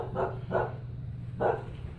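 A dog barks three times nearby, two quick barks and then one more after a pause, over a steady low background hum.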